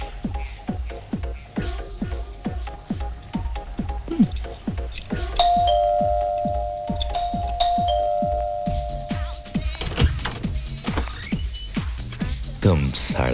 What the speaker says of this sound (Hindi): तो फिर घंटी क्यों नहीं बजाते?